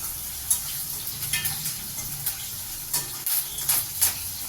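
Shallots sautéing in a pan for pirandai kulambu, a steady close sizzle with intermittent stirring scrapes and clicks throughout, no voices.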